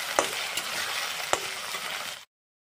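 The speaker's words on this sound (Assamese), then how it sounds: "বিলাহীকেইটা অলপ ভাজি ল'ম" Two tomatoes sizzling with onions in a hot pan for egg bhurji curry, a steady frying hiss broken by a few sharp spatula scrapes and clinks as they are stirred, cutting off abruptly.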